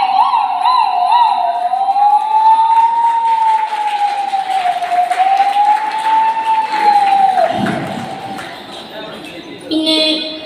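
A child imitates an ambulance siren with one long, loud, wavering wail held for about seven seconds, close to the microphone, before it fades into a brief noisy scrape.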